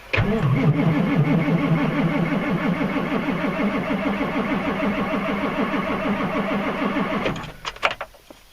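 A diesel truck engine cranks over steadily for several seconds in the cold after glow plug heating, with a rhythmic churning starter sound, then stops without catching, followed by a few clanks.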